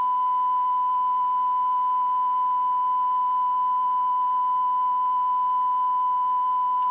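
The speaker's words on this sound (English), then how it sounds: "you'll see it should be 1 kHz" A steady 1 kHz test tone plays from a Bell & Howell Model 3191A commercial cassette recorder, holding one constant pitch at even, fairly loud volume for the whole stretch with no speech.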